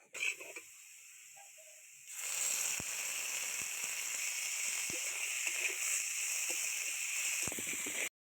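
Onion paste hits mustard oil with lightly fried potatoes for aloo posto, setting off a steady, fairly quiet sizzling hiss after a brief stillness, with a few soft stirring knocks.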